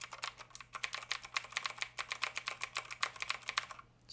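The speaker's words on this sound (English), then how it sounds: "So that's what you can kind of expect in terms of sound from this keyboard." Rapid, steady typing on a Gamdias Hermes M1 mechanical keyboard with clicky blue-type switches, dense sharp clacks close up and alone, with a brief pause near the end.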